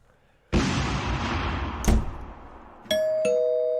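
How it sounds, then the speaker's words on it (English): A loud burst of noise starts abruptly, then a sharp thud, followed by two bright doorbell-like chimes ringing out at the end. "explosion doorbell."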